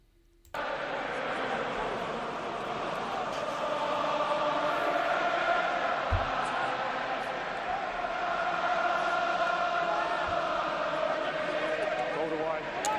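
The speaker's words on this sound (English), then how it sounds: "Listen to the crowd." Stadium crowd roaring at a rugby international between Ireland and Argentina, a broad sustained roar of thousands of voices that swells and stays loud for the whole stretch, with a commentator's voice faintly under the noise.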